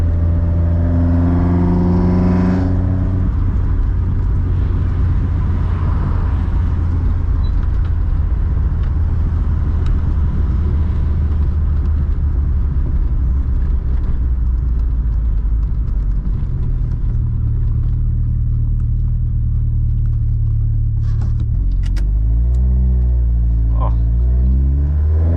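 A Mini Cooper S engine revs up hard through several pulls on a test drive, a loud droning rumble rising in pitch with gear changes, heard from inside the car, with talking at times over it.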